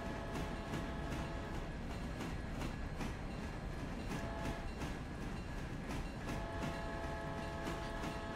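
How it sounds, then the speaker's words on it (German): A train in the railway simulation game Railroader rumbles steadily with rhythmic clickety-clack from the wheels over rail joints, loud and continuous with no voices. "Absolut vorschriftsmäßig, wie ich den Zug da fahren lasse."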